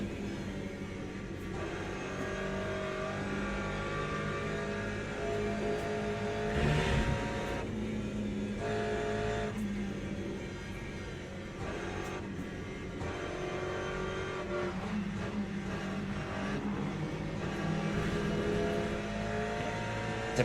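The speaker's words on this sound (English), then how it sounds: "Hypercars are coming through now." Hypercars pass by in the Le Mans Ultimate racing game at the Le Mans circuit, with engines droning and rising as they go past over a continuous race-car roar, with no speech.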